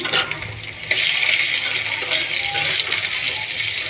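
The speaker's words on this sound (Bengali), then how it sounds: "এবার দিয়ে দিলাম পেঁয়াজ কুচি" Chopped onion hitting hot oil for a rohu fish curry, a dense hiss and sizzle with a clattering start, a sudden louder surge of frying about a second in, then steady crackling.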